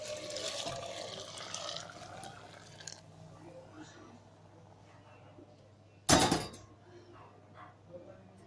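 A whole pot of cooked liquid poured into a black chickpea (kala chana) curry, a brief loud splashing burst after quieter kitchen noise, with some water and dish sounds around it.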